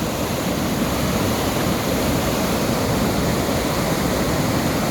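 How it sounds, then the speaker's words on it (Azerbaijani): River water spilling over a small weir formed by concrete filters under a bridge, churning and foaming in a loud, continuous rushing roar close by, with no voices. "Burada mini bir şəlalə yaradıb, tökülür qıjova, köpülür su kimi"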